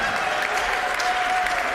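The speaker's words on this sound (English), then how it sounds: "Give them a wonderful round of applause" Audience applause at a Sunday worship service, dense steady clapping from a crowd, loud and sustained with no break.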